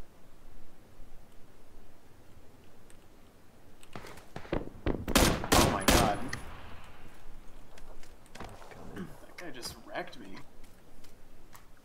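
Several sharp gunshots in an online shooter, with an SKS mentioned, ring out in a tight burst near the middle, loud and cracking, then scattered fainter pops follow under low background noise.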